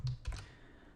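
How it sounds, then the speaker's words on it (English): A few quick, soft keystrokes on a computer keyboard, close and quiet, followed by near silence. "So I'll just go ahead and type in email there."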